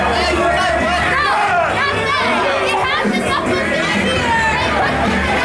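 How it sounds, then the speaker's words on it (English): At a pro wrestling TV show after the main event ends by pinfall, a crowd shouts and clamors at the referee, a dense, continuous roar of voices filling the whole stretch. "Now this crowd pleading with the referee,"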